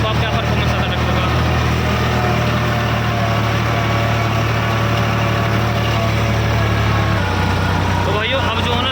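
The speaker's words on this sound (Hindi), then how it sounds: "तो भाई 1700 आरपीएम पे देखो आप क्या परफॉर्मेंस आता है ट्रैक्टर का।" An Eicher 557 tractor engine runs at 1700 rpm while pulling a cultivator through a field, a loud steady diesel drone with a deep low hum that drops in pitch near the end, with someone talking over it.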